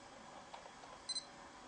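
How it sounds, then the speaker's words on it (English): A Nikon D300 digital SLR camera gives its double autofocus-confirmation beep, two quick, high, faint chirps in a row against a quiet background. "we got the double beep and the square has gone green"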